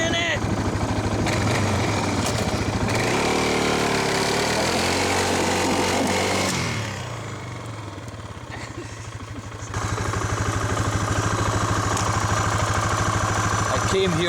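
An off-road motorcycle stuck in terrain revs hard in sustained bursts, drops briefly to a lower idle-like drone, then climbs again, loud and close, with people shouting over it.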